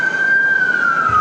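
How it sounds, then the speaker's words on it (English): A single emergency vehicle siren wails loud and close on a street in East Baton Rouge, a steady tone that slowly drops in pitch as it passes, with low traffic rumble beneath. "Speaking of sirens, there are the sirens right there."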